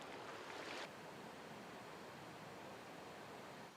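Gentle ocean waves washing ashore on Shikinejima island near Tokyo, a soft, continuous, faint hiss of surf with no voices.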